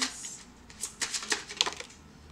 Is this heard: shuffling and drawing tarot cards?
yes